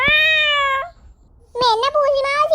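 A cartoon cat meows loudly and close in a funny kids' cartoon about a Sinhala New Year celebration: one long drawn-out meow, a brief pause, then a second wavering meow.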